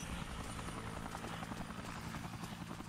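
A helicopter in the video game Dead Rising gives a faint, steady rotor chop under quiet game ambience, with soft scattered clatter over it.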